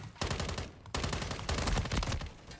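Rapid automatic gunfire from a Call of Duty Modern Warfare 3 one-versus-one match, loud and close, firing in three dense bursts with brief gaps between them and no talking.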